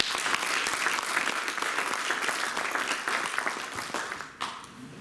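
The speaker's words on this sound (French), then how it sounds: "Je pense que vous pouvez l'applaudir." An audience at an evening campaign event breaks into sustained, dense applause that stays steady before dropping off abruptly near the end.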